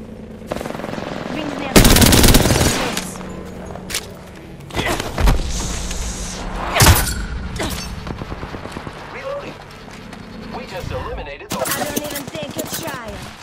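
Rapid automatic gunfire and heavy shots in Apex Legends, several loud bursts and booms spread across the fight with quieter gaps between them, a player's voice talking now and then.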